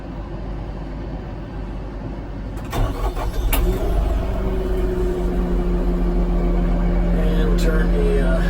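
The diesel engine of a New Holland Boomer 50 tractor starts up, heard from inside the cab: a quiet ambient hum, a brief crank, then a steady, muffled idle drone that continues to the end.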